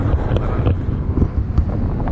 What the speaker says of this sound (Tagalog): Yung dito banda medyo malakas ang hangin.